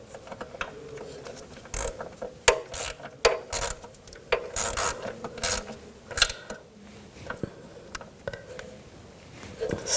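Ratchet tightening a nut on the rear wheel hub bearing of a 2000-2006 BMW X5; irregular clicking strokes in short bursts of rapid pawl clicks, close and moderately quiet, with scraping metal between pulls.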